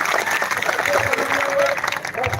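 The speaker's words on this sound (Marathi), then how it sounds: "पुन्हा एकदा जोरदार टाळ्यांचा कडकडाट" Loud applause erupts from a crowd at a rally at Azad Maidan, dense clapping continuing under a voice through the whole short stretch.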